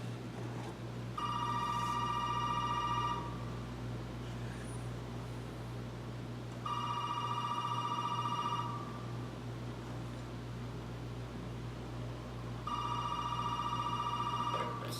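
A telephone bell rings in the Resident Evil 7 trailer, three separate long rings with silent gaps between them, heard alone over a low steady hum.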